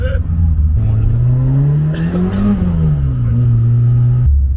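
A circuit-prepared Citroën AX Sport race car drives through town, its loud engine rising through revs, dipping on a gear change and climbing again, heard from inside the cabin with voices talking over it.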